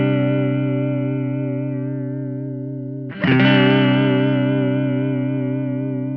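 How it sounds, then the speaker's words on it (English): An electric guitar chord rings through a Walrus Audio Julia analog chorus/vibrato pedal set to fully wet vibrato, sustaining with a wavering pitch before a fresh strum near the midpoint brings a brighter, louder chord that slowly fades. "So now we just hear the vibrato."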